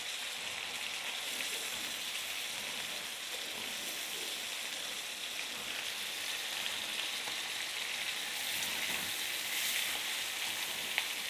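Chicken fries on a hot tawa with a steady, bright sizzle and crackle that keeps going at an even level, close and constant with no talking.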